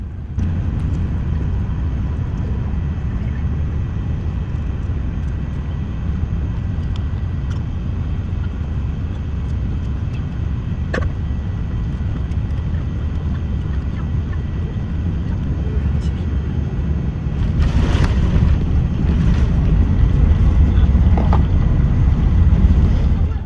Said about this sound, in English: here's the landing into Abu Dhabi